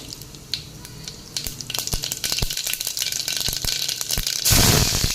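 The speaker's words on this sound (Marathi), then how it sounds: "कुकरमध्ये मी दोन चमचे तेल घातलेलं आहे आणि त्याच्यामध्ये आता आपण अर्धा चमचा मोहरी घालूया" Mustard seeds tossed into two spoons of hot oil in a pressure cooker crackle and pop, starting as scattered sharp ticks and building to a dense, close spattering sizzle that swells louder near the end, with no talk.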